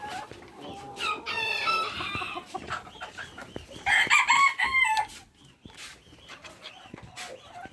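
Hens and roosters at a poultry farm in Gabtali, Bogura, clucking in a busy overlapping chorus with a couple of drawn-out crows standing out near the middle, moderately close.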